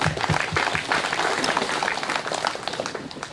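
Members at a SACCO annual general meeting applaud in a hall, a dense, steady round of clapping from many hands at moderate distance, with faint voices underneath.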